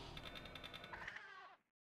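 A cat-like meow from the retro action game Gato Roboto, a short synthetic cry within a busy, continuous game soundtrack that cuts off abruptly near the end.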